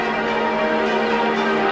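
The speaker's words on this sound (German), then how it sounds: "Die Pfarrer haben das Läuten angeordnet." Church bells ring along the banks of the Danube, a steady, sustained metallic tone with lingering overtones that continues unbroken throughout, with no voices over it.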